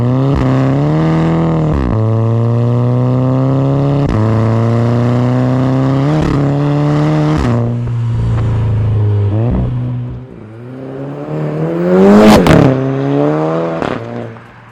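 A Skoda Laura with a swapped 2.0L TSI GTI engine and DQ250 gearbox revs repeatedly, the pitch climbing and dropping in several loud, close pulls, ending with a sharp high rev and rough settling.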